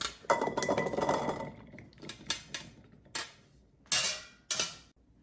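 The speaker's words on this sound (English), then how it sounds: "Let's give these a quick stir. Get them all coated with that yummy butter and garlic." Washed potatoes stirred in melted butter and garlic, giving a series of clinks and scrapes of a utensil against a dish, a dense busy stretch at first then several separate sharp knocks, close and fairly loud.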